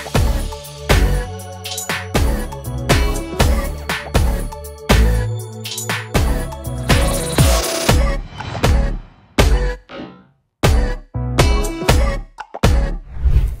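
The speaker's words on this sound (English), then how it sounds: "With the bass and everything together, it sounds like this." A dense, loud electronic remix bass section stacks acid, buzzy, slap and polysynth bass layers over a deep sub, with rhythmic pumping hits and brief dropouts near the end.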